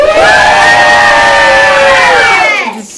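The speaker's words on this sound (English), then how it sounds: "Can you give me a cheer if you like the stations?" Classroom of children letting out a loud unified cheer, a sustained high-pitched group shout held for over two seconds before trailing off abruptly into quiet.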